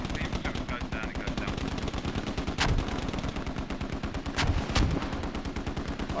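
A mortar barrage in an online multiplayer war game: steady, rapid, fast-paced firing with several heavier, booming impacts standing out, loud and close throughout, with faint voices underneath.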